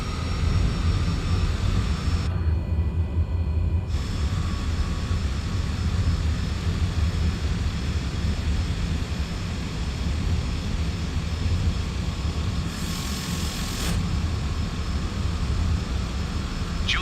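A Cessna Caravan's turboprop engine drones steadily and loudly while the aircraft taxis, heard from inside the cabin as a constant roar with a couple of brief high-pitched blips from the radio.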